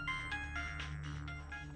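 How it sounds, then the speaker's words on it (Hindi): A mobile phone ringtone plays a quiet electronic melody of repeating short tones over a low steady background hum, with no one speaking. "अरे लड़की का बड़ा फोन आ रहा है तुम्हारे मोबाइल पे"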